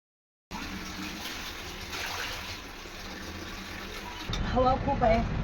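Water runs steadily while black moong beans are washed, a continuous rushing pour that turns louder and splashier near the end.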